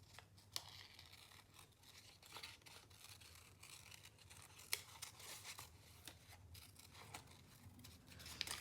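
Scissors fussy cutting around shapes on watercolor paper, a close, quiet series of irregular snips and paper scrapes with small crisp clicks, no speech.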